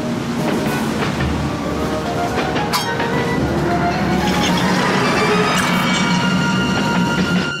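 A moving train in an animated cartoon clatters steadily with metallic clinks and rattles, a loud continuous rolling rumble throughout with occasional sharp knocks.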